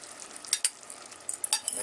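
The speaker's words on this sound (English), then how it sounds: "So the next thing I'm gonna do is add the rice." Rice is added to a pot of frying ham, giving a soft sizzle broken by a few short scraping and stirring clatters.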